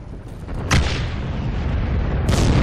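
Soviet frag grenades exploding in the video game Heroes & Generals, two heavy booming blasts about a second and a half apart over rumbling background noise.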